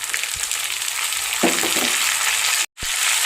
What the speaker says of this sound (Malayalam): ഇനി നമുക്ക് പച്ചമുളക് ഇട്ട് കൊടുക്കാം ഇനി നമുക്ക് തക്കാളി ഇട്ട് കൊടുക്കാം